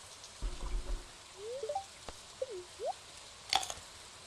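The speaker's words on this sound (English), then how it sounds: "And the rain likes to make weird noises." Soft, steady rain patters in the farming video game Stardew Valley, a faint even wash with a few quiet chirpy rising tones and small clicks layered over it.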